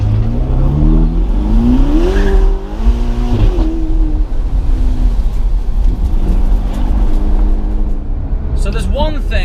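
A Ferrari GTC4 Lusso T engine roars loud and close as it accelerates, revs rising and dropping through gear changes, with someone talking over it.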